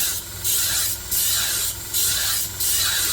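Sanding a badly damaged Dalstrong knife blade on a 120 grit Cubitron abrasive belt, four steady rasping passes with short gaps between them, close and loud with no talking.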